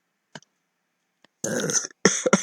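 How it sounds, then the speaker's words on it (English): A close burp rumbles out after a couple of small clicks, followed by a second short burst of throaty eructation. "It laughed a burp out of me."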